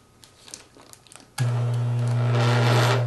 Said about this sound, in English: Turn the vibrator on low and place the bowl on the work surface.